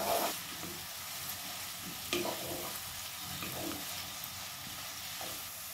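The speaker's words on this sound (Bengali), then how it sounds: "পেঁয়াজটাকে আমরা মানে সোনালি হওয়া পর্যন্ত এটাকে হালকা করে ফ্রাই করে নেব।" Sliced onions frying in a pan as a base for chicken kosha, a steady close sizzle with occasional stirring scrapes and crackles, and no voices over it.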